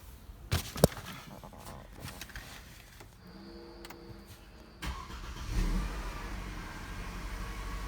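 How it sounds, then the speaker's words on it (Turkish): Mercedes E250 CGI engine being started after sitting for a month, with a brief starter crank and the engine catching and settling into a steady idle, close by and moderately loud, no talking. "Onun için E250'nin marşına basalım."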